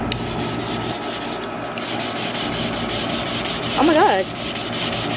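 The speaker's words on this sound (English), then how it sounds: "Maybe if we scrub it, yeah, that way." Baby clothes being scrubbed by hand, a steady close rubbing and brushing texture running throughout, with a brief exclaiming voice near the end.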